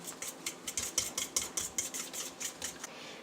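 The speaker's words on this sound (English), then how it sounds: "In a separate bowl, whisk together 4 eggs and 1/3 of a cup sugar." A whisk beats eggs and sugar in a bowl for gluten-free brownie batter, giving fast, steady metallic clicks and scrapes in an even rhythm of about four strokes per second, close and fairly quiet.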